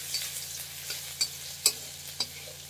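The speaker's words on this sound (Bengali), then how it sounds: "এই যে রসুন বাটা, এটা দিলাম, দিয়ে আস্তে করে এরকম করে নাড়তে থাকবো।" Garlic paste frying in hot oil gives a steady soft sizzle, broken every half second or so by sharp scrapes and taps of a spatula against the pan, with a low hum underneath.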